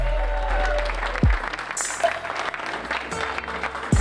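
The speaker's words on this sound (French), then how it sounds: "Je vous demande de les applaudir très très fort" Audience applauding graduates at a diploma ceremony, a steady wash of clapping throughout with a few louder bursts and some background noise.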